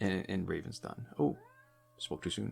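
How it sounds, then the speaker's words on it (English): A pet cat meows in a short, drawn-out cry between stretches of close talking during a multiplayer game session. "if you can hear that meowing, that is our cat"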